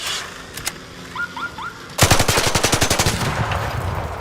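Rapid automatic gunfire bursts out in the ARC Raiders video game, a fast steady stream of loud shots following a few scattered pops and short chirping calls, with no voices.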